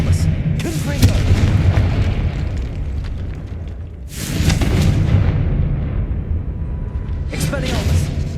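Confringo blasting spell explosions in Hogwarts Legacy, three loud booming bursts spaced a few seconds apart, each a sharp blast trailing into rumble, heard amid spell-casting combat with a voice speaking.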